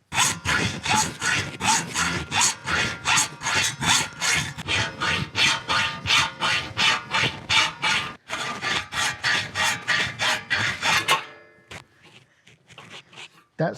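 A hacksaw cuts through a bicycle frame down tube in steady, rapid back-and-forth strokes, loud and close for about eleven seconds before stopping, followed by quiet shop sounds.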